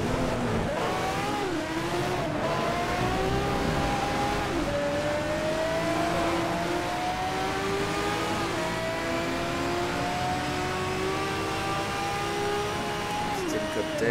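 Racing car engine in the video game Need for Speed Shift, revving and shifting through gears with rising and falling whine over a continuous roar, loud and sustained for the whole stretch.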